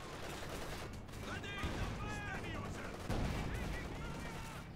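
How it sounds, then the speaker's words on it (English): A Katyusha rocket artillery barrage in a strategy game: a dense, continuous rumble of launches and explosions with crackling bursts, with a commentator's voice talking over the sustained barrage. "there should be good chances of some good hits by the Katyusha"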